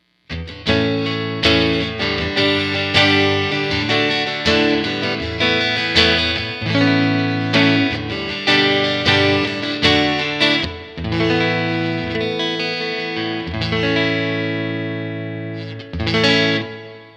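Clean electric guitar, a PRS Silver Sky on its neck pickup, with a warm, rounded tone playing chords and single notes, each ringing out with noticeable reverb, loud and close.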